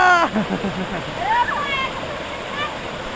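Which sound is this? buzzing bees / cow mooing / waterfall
waterfall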